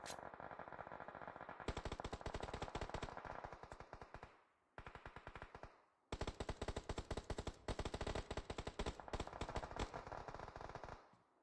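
Rapid automatic gunfire rattles in a video game match, dense bursts loud and sustained, with two brief pauses between long volleys and no voices heard.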